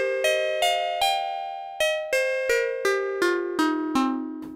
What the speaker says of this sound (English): Starting to get sort of a bell tone.